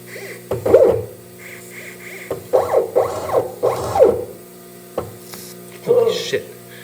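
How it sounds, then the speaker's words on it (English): An electric motor on a home-built machine with a wiring fault strains and stalls, giving short humming, groaning surges that rise and cut out in several separate bursts, fairly close and with no talking. "You can hear the motor stalling out."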